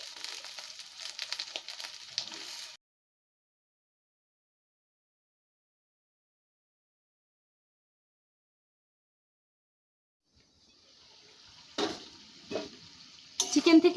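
Chicken pieces tossed into frying onions in a pan give a short burst of sizzling and stirring, then near silence, before the sizzle and scraping return loud and close toward the end.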